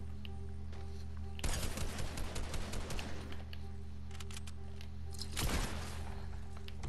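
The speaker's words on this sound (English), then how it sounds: "You see me shooting at you" Video game gunfire erupts in a dense automatic burst of rapid shots lasting about two seconds, then a second shorter burst follows, over a steady background hum.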